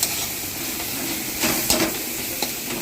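Turmeric and salt being stirred in a hot frying pan, heard as a steady close sizzle with soft scraping strokes of a utensil and a few light knocks against the pan.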